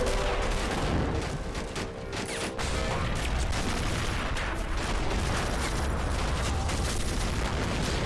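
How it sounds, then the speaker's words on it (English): Dense combat noise from the toy-soldier strategy video game Army Men of War, with grenade blasts and scattered gunfire blending into a continuous loud rumble of battle throughout. "Oh, a good toss of grenades there."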